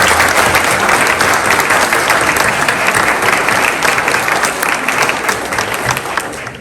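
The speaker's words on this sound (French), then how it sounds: "Je vous demande de bien vouloir les applaudir." Sustained, loud applause from the audience at the mayor of Pomponne's New Year's wishes ceremony, a dense steady clatter of many hands that holds for several seconds and tapers only slightly toward the end.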